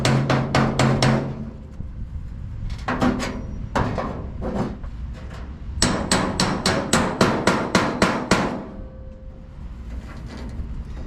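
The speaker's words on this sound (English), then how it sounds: "we can use a hammer and dolly to straighten out the line" Sharp metallic hammer strikes on a Model T hot rod fuel line worked over a dolly, struck in quick bursts of four to ten blows with short pauses between, loud and close with no talking.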